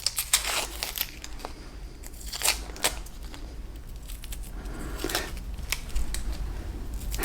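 Dry onion skin crackles and tears as it is peeled from a very large onion, a run of crisp crinkling bursts close by over a steady low background hum.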